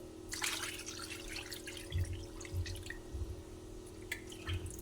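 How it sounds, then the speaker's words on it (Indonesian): Water poured into a pot of goldfish carp, tofu and vegetables for Batak arsik, a faint steady trickle with scattered drips beneath a low background hum. "Terakhir saya tambahkan air secukupnya sampai seluruh ikan emasnya dan juga tahu serta sayurannya terendam oleh air."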